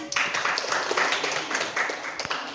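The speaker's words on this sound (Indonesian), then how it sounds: "Oke, tepuk tangan." A class claps together after a lesson on colloids, with steady, mid-level clapping filling the moment and no talk over it.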